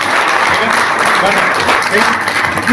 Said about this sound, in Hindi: तो मैडम के लिए बहुत जोरदार ताली।